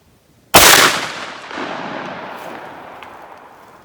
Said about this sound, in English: Dang near the same hole as that last shot.